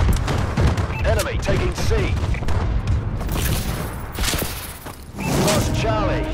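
Explosions and gunfire from an enemy bombing run in Call of Duty: Advanced Warfare, loud bursts and booms rolling through a dense battle mix while a game announcer voice speaks over it.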